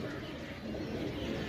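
Pigeons for sale in Sarai Alamgir, Jhelum, coo softly near a rooftop water tank. The low, steady cooing runs through the whole clip under a constant broad wash of background noise, with no talking.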